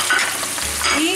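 Garlic and onion fry in a pan with a soft sizzle and light stirring scrapes, fairly close and quiet, with no talking.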